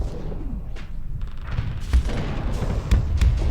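Siege cannons in the space game Starsector fire as deep booms over a constant low rumble of battle, with a few sharper thuds standing out toward the end.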